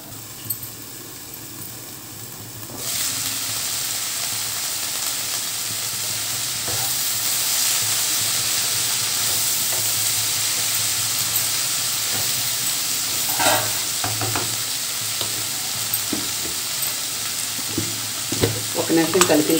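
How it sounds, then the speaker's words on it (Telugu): Capsicum frying in a pan over a medium flame, a loud continuous sizzle and hiss that swells after a few seconds, with occasional soft stirring scrapes and small pops, close up and without talk. "మూత పెట్టి ఒక 5 నిమిషాలు ఇలాగ మీడియం ఫ్లేమ్లో మగ్గించుకుందాం."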